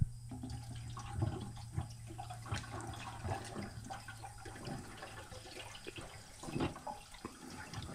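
Water pours and splashes into the radiator of an International 300 utility tractor during repair, a steady trickling stream with small splashes and drips running throughout at close range.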